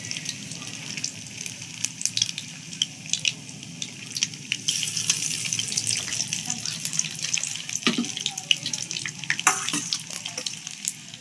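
Topse fish frying in hot oil in a kadai make a continuous crackling, hissing sizzle with bright bursts of spitting, fairly close and steady throughout.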